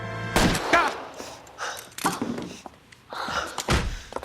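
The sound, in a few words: punch to the face in the video game L.A. Noire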